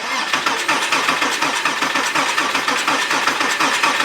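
A Porsche Cayman S engine with a blown motor cranks over on the starter for a compression test, giving a steady, rapid rhythmic churning pulse that runs loud and close for about four seconds without talk.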